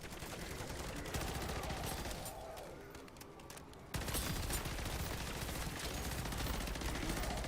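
Sentry turret firing in MW3 Zombies, dense continuous automatic gunfire mixed with other game noise, dipping briefly in the middle before resuming loud and steady.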